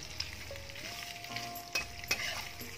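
Oil sizzles steadily in a pan while a spoon stirs it with a few sharp scrapes and clicks against the metal, fairly quiet and close, with no voices.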